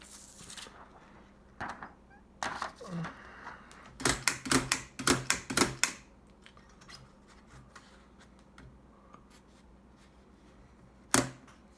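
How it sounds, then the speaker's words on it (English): Keys strike a Smith Premier No. 1 typewriter in a typing demonstration, scattered sharp clacks at first, then a rapid cluster of loud, close strikes and a final lone clack after a quiet pause. "time for a short typing demonstration of the Smith Premiere number 1"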